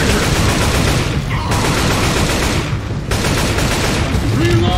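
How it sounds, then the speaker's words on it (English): Dense, continuous gunfire and explosive booms from a grenade launcher fill a Left 4 Dead 2 firefight, loud and sustained throughout, with a player's voice faintly mixed beneath the shooting. "Got a grenade launcher."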